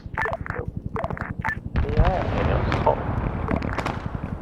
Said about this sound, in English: Good explosions there.